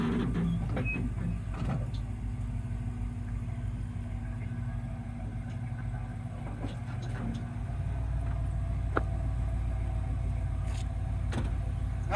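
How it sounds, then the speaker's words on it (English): Pickup truck pulling a camper trailer away from its weight-distribution hitch, a steady low engine rumble idling and creeping forward, fairly close, with a few faint clicks and clunks and no talking. "So I'll go ahead and pull the trailer out."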